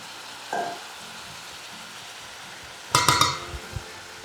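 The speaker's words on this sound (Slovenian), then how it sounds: "Zelje bom kuhala samo nekje slabe 3 minute oziroma dobre 3 minute" Štajersko-style cabbage cooks in a pan with a faint, steady low sizzle, broken by a soft knock early on and a burst of metallic clinks and clatter from the cookware near the end.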